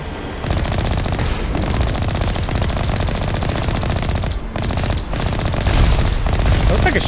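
Heavy automatic gunfire rattles almost nonstop in Mass Effect Legendary Edition as shots are aimed at incoming rockets, loud and close, with booming impacts mixed into the barrage.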